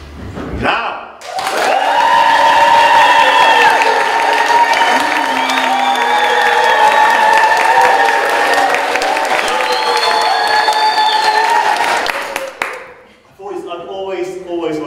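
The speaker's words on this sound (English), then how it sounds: "A loud cheering, screaming, etc., etc., starting" A conference audience at an education event cheers, screams and claps loudly for about ten seconds, a sustained roar with shrill whoops and yells that cuts off abruptly, followed by a speaker talking.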